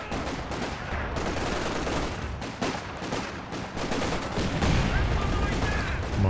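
Infantry squads trade sustained small-arms fire in Company of Heroes 2, dense rattling volleys and scattered shots running continuously while a commentator talks over the battle.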